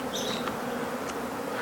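A swarm of honey bees settled in a tree gives off a dense, steady buzzing that hums on without pause, fairly close and unbroken by any voices.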